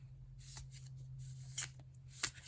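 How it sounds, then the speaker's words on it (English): Tarot cards being overhand shuffled in the hands, a soft papery riffle with several crisper flicks and slaps, close and quiet over a low steady hum. "when you do an overhand shuffle, it feels really good in the hands"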